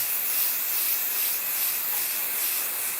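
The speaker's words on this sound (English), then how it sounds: "It's your quilting adhesive spray." A quilting adhesive spray can hisses continuously at close range, a steady airy spray without pauses.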